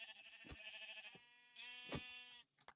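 Sheep in Minecraft give several distinct bleats, close and clear, each a wavering tone with a rough onset, separated by brief gaps and ending in a short final cry.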